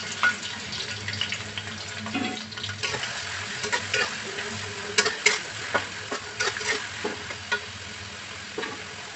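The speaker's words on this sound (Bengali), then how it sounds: "আমি দুটো শুকনো মরিচে ভেজে দিচ্ছি। এগুলোকে এখন ভালো করে ভেজে নেব।" Ginger, garlic, onion and dried chillies fry in hot oil with a soft, continuous sizzle, while a spoon stirs and scrapes the pan in irregular clinks and knocks close by.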